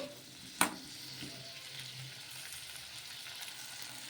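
Green chillies and onions soften in a frying pan with a quiet, steady sizzle, opening with one sharp clank of a utensil against the pan, then faint stirring.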